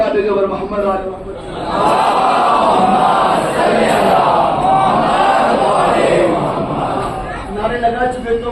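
A crowd at a Muharram majlis in a Bhopal imambara roars a religious slogan back in unison, a loud sustained mass shout lasting several seconds, with a lone voice leading before and after.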